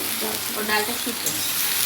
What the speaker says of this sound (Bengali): এখানে হচ্ছে সবজি এখন ভাজা